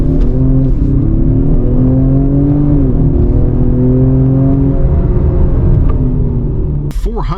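A 2025 Ford Explorer ST's engine in sport mode, loud steady drone that rises and dips as the SUV accelerates and shifts gears, heard from inside the cabin with a brief clunk near the end.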